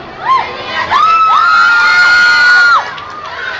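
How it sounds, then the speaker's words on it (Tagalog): A large crowd at a mall performance at SM North EDSA cheers and shouts loudly, with high children's squeals and whoops rising into a sustained roar that holds for about two seconds before dropping back. "Yeah, Donalyn, I didn't expect this crowd to be this big right here for you."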